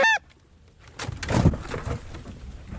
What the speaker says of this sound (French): J'entends des oies là.